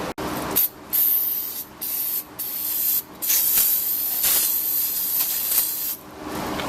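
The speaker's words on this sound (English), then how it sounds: "I just take some of that same brake cleaner that we use to clean the rotors and spray it all over them" Brake cleaner is sprayed onto brake pads for an Acura MDX in a repair shop, a series of loud close hissing bursts separated by short pauses, with a longer spray toward the end.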